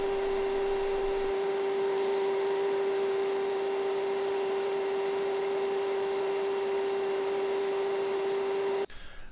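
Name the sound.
belt sander smoothing cut marks on a wooden lure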